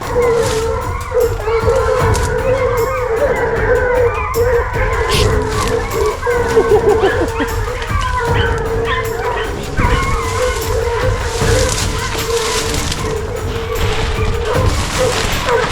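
Small hunting dogs bay through thick brush during a wild boar drive hunt, a loud, close, continuous chorus of barks, yips and howls that never lets up, with a few voices faintly underneath.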